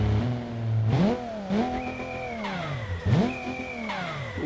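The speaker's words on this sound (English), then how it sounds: "Ooh, listen to that turbo flutter." A Holden car engine in BeamNG.Drive revs up and drops repeatedly as gears shift, with a fluttering turbo sound at each release, loud and close.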